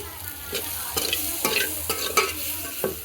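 Fish curry being stirred over a wood-fired stove in a village kitchen as coriander and spices go in, with several scraping strokes and a soft sizzle of frying underneath, close and steady, no talking.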